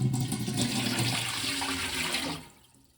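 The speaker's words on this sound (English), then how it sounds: "Now that the dye is in the pot, I'm adding water" Water rushes and splashes steadily into a dye pot for a couple of seconds, then tapers off quickly to quiet; a close, full pour with no voices.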